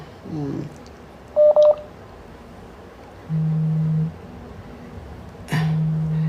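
A telephone is dialed, giving a quick pair of keypad tones followed by two long, low, steady line tones separated by a pause, with a brief voice sound at the start.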